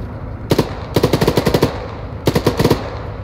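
Machine gun fire in Arma 3 comes as three loud, close bursts: a quick double shot, a long rapid string of about ten rounds, then a shorter burst.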